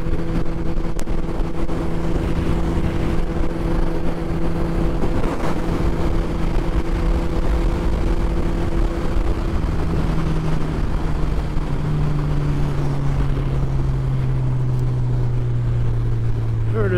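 A Suzuki Hayabusa motorcycle rides around town in cold weather, its engine droning steadily with wind rush for a long stretch, pitch dropping toward the end as it slows.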